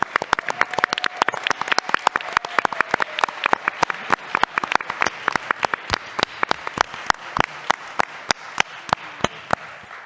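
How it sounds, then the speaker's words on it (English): Scattered hand claps from a small audience at a talk, sharp and irregular, building into steady clapping that carries on for several seconds. "So let's have a big round of applause for Deb Willis."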